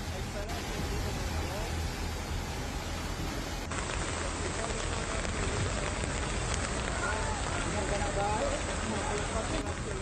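Steady heavy rain falls during a tropical storm with flooding in China, a continuous hiss of drops on surfaces that holds constant throughout, with a voice talking over it.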